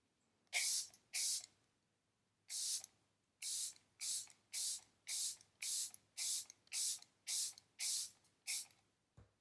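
A pump bottle of makeup setting spray hisses in about a dozen short bursts, close and crisp, with quick pauses between them in a quiet room.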